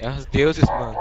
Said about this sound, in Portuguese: Vocês não estão ouvindo o cachorro latindo?